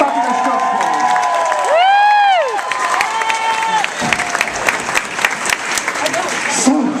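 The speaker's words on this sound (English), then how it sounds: "Round of applause for the fabulous job" Audience at a Hamburger Queen 2018 burger-making contest bursts into applause and cheering, a dense crowd roar with a long whooping whistle-like shout rising over it midway, then clapping carrying on more loosely.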